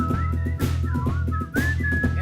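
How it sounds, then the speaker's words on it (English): Someone whistles a lilting tune, the notes sliding up and down over a steady rhythmic backing beat, clear and close. "we rode to the beat of our favorite whistling tune"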